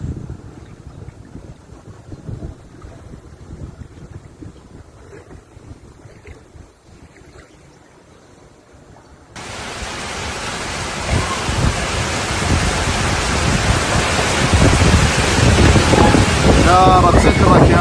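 A car pushes through knee-deep flood water during an unexpected flood in Jeddah, Saudi Arabia. A muffled rumble gives way halfway through to a loud, continuous rush and splash of water surging around the vehicle.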